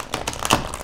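Tarot cards being shuffled by hand for a reading: a quick burst of papery riffling and flicking, several soft crisp snaps close up in under a second, with no talk.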